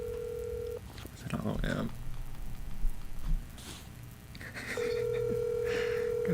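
A phone call being placed: a sustained dial tone, then a burst of keypad tones, and the tone returning as the call goes through, with people talking and laughing over it in a podcast setting.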